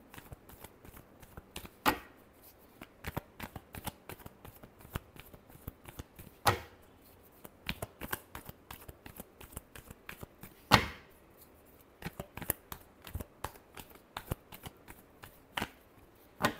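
Tarot cards shuffled by hand in a quiet room, a steady run of soft papery riffles and light taps with a few sharper slaps of the deck, close and alone with no talking.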